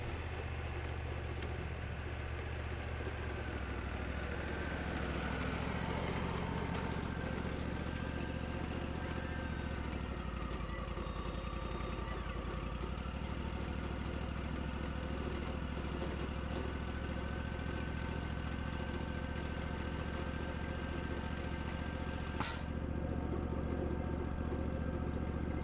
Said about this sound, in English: I love milling a cant with no stress.